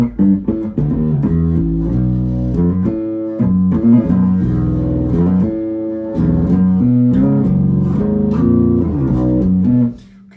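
Yamaha Attitude LTD bass played through the humbucker pushed in with the tone fully open, plugged into a big amp; a steady, full run of picked notes and riffs, loud and continuous, ending with a short pause.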